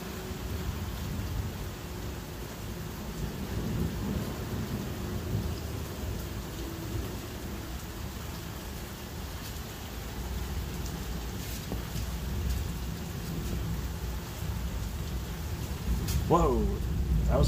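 A late-night thunderstorm brings steady rain and low rolling thunder that rumbles on throughout, with a sharper crack near the end, while voices talk over it.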